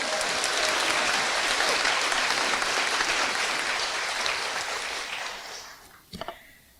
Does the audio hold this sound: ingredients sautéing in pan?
no